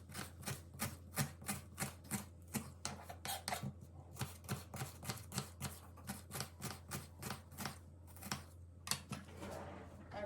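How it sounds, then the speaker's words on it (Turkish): Rapid, steady knife chopping of onions on a cutting board, a regular run of sharp close taps for several seconds with a brief pause near the end. "soğanlarımı doğradım"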